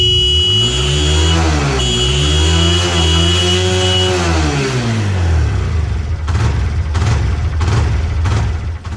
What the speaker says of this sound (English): This bike had an issue where the bike would not rev up unless you beep the horn.